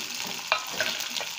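Capsicum and onion for veg Manchurian sauté in a pan with a moderate, steady sizzle and a few light scraping stirs, close but fairly soft, without speech.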